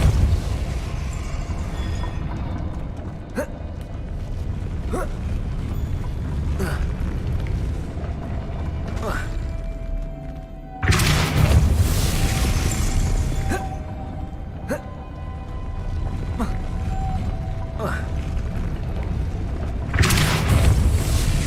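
Depulso force spell cast in the Hogwarts Legacy video game, heard as sharp booming blasts over a rumbling game backdrop, with one large burst midway and another near the end.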